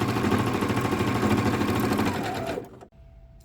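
A sewing machine stitches lace onto a pair of shorts in a loud, close, rapid whirring run that slows and stops near the end, leaving near silence.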